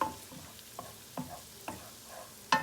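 Chicken, broccoli and pasta mixture cooking on a stove set to low, with a soft steady sizzle and a few light scrapes and taps of stirring spaced out over the quiet background.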